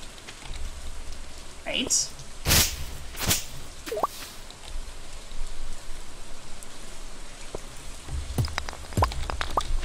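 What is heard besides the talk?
rain falling in a farming video game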